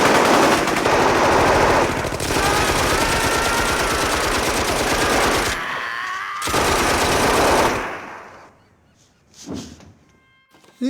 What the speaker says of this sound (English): when they start making the sound of the bullets